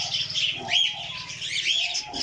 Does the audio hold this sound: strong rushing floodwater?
no